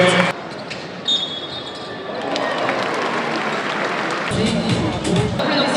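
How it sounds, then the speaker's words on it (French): An arena crowd claps and cheers during player introductions at a French LNB Supercoupe 2025 basketball event featuring AS Monaco Basket. The applause is a steady, dense wash throughout, with a burst of louder low rumble near the end. "Applaudissements publics"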